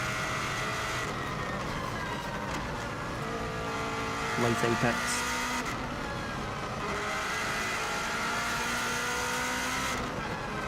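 Subaru WRX STI racing on the Isle of Man TT course, its engine droning hard and shifting pitch through gears at close range, with a driver's voice briefly over the constant roar.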